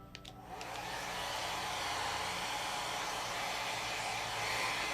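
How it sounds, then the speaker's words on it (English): A blow dryer set on cool runs steadily and close, drying wig glue until tacky for a red 360 lace frontal wig, a continuous breathy whoosh after a brief start-up with no talking. "Before I attempt to glue down the wig, I'm just going to go in with a blow dryer."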